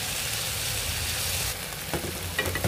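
Chicken frying in a pan, a dense close crackling sizzle that carries on steadily, with a few clinks and stirring bumps near the end and no talk.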